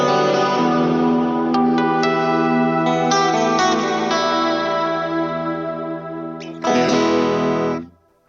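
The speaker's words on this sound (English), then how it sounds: "Put on some reverb." Sustained overdriven electric guitar chords from a Tsakalis Mothership tube overdrive played through a Vox 2x12 cabinet, with reverb added so the notes ring out and swell, ending on a final strummed chord that fades.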